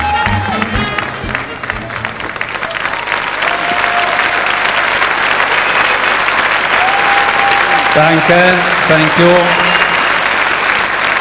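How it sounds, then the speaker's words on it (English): A crowd applauding Italian champions at a world dance championship in Germany, dense sustained clapping that swells and continues to the end, with a brief spoken thanks and music fading under it. "the crowd showing their appreciation for the Italian champions"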